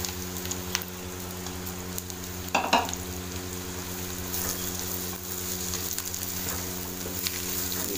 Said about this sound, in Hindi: तकरीबन 4 से 5 मिनट के लिए हम प्याज को फ्राई करेंगे।